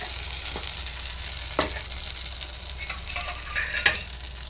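Wheat rava dosa frying in oil on a large pan over low flame: a steady close sizzle with a few sharp spatters and crackles, no talking.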